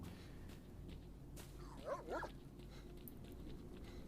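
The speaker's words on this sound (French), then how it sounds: "Il y a des chiens dans le coin, non?" A couple of short, faint dog barks in the video game STALKER: Shadow of Chernobyl, in the Agroprom underground, ring out in the distance over a steady low ambient rumble.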